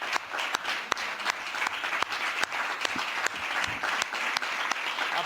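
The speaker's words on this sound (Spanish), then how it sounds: "Apunte, aplausos." A parliament chamber audience applauds with dense, steady clapping at moderate volume, carrying on without a break for the whole stretch.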